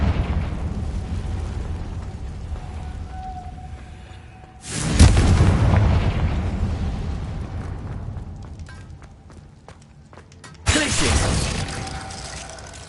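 Confringo blasting spells in Hogwarts Legacy, two heavy explosions a few seconds apart, each a sudden booming burst with crackling debris that rumbles and slowly fades under a loud, continuous game ambience.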